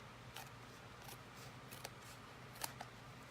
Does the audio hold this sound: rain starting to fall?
no